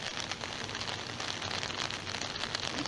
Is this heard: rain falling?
yes